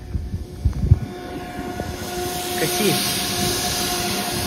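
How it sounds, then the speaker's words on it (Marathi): An Indian Railways train passes through hills in the rain, heard as a low rumble with faint tonal horn-like lines. Someone speaks briefly over it at the start. "ते डोंगरातली रेल्वे आली आपल्या डोंगरातली."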